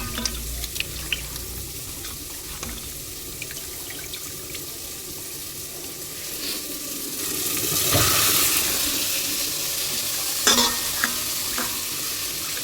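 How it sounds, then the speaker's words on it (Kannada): Chicken pieces added to a pot of tempering for chicken biryani stir and sizzle steadily, with a brief louder burst of frying and a few clinks of a utensil against the pot, close by and without talk. "ಬಿರಿಯಾನಿಗೆ ಒಗ್ಗರಣೆ ಹಾಕಿದ್ದೆ, ಅದು ಸ್ವಲ್ಪ ಡ್ರೈ ಆಗಿದೆ. ಇವಾಗ ಚಿಕನ್ ಹಾಕ್ಕೊಳ್ಳೋಣ."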